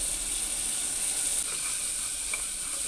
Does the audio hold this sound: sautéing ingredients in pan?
yes